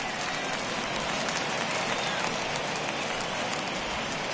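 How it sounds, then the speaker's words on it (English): Steady rain falls on a ballpark in the baseball video game MLB The Show 21, a dense even hiss that holds constant throughout with no clear voices on top. "the conditions aren't ideal with the rain coming down"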